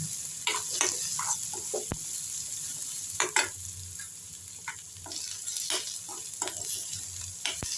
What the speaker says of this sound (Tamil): கருவேப்பிலையும் போட்டுட்டேங்க. எல்லாம் நல்லா வதங்கட்டும்.